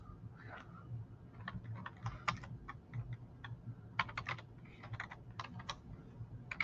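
Typing on a computer keyboard, a quiet, irregular run of close key clicks over a low room hum, with no voices.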